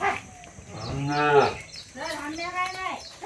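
Bullocks moo nearby, two long, loud lowing calls one after the other, with faint background noise between them.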